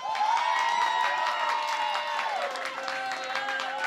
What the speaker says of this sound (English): that's how y'all gonna clap for a legend